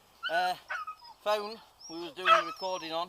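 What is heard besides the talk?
dog barking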